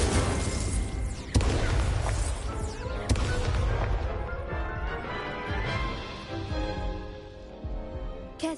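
Incendio fire spell cast in Hogwarts Legacy on hardest difficulty, a dense run of crashing, booming impacts with sharp bursts near the start and middle, loud and close amid busy combat noise.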